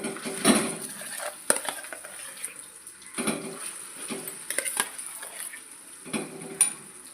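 Chintamani chutney being stirred into a sizzling tempering in a pan, with a spoon scraping and clinking against the metal in irregular bursts over a faint, steady sizzle, close by.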